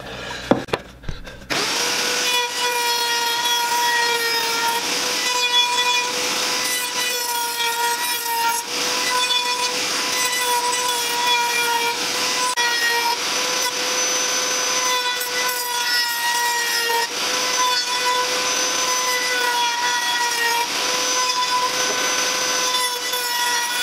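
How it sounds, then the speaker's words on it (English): Wood router fitted with a round-over bit runs along the edges of stool legs, a steady loud high whine with bright harmonics continuing for over twenty seconds after a brief start-up. "I've got a round over bit in my router, and we're just going to run the legs through each on all 4 corners just to soften up those edges"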